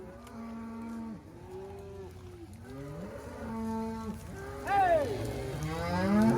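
A herd of ranch cattle being driven along moos repeatedly, with several overlapping, drawn-out calls near and farther off. Someone shouts briefly over the lowing.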